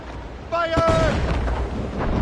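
Ship cannon fire in Assassin's Creed Rogue, one heavy booming blast followed by a rumbling roll that fades over a couple of seconds, with a shouted voice near the start and game music underneath.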